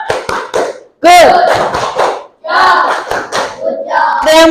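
Applause and cheering for a lamp that has just lit up, a short clap burst and then a second longer round, mixed with voices talking over it.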